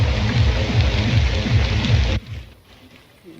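Steady rain pours during the rainy season in a rural Bengali village yard, a dense continuous patter for about two seconds that then cuts to quieter near-silence.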